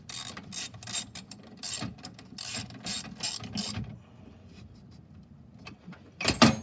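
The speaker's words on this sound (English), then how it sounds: "Putting a nut on now." A 7/16 nut is tightened onto a 1/4 inch bolt on the solenoid of a gas EZGO golf cart with a Robins engine: quick bursts of metallic ratcheting clicks, a quieter pause, then one last louder burst.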